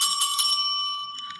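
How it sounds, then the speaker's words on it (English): A small handheld bell with a smiley face on it is rung once, a bright metallic ding that rings out and slowly decays, then is briefly struck again near the end. "It's a bell with a smile face on it."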